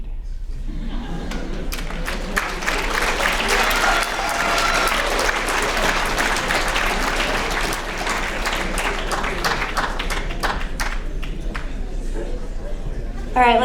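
Sustained audience applause at a school writers' week reading, a dense steady wash of clapping from a seated crowd lasting the whole stretch, with individual claps standing out near the end.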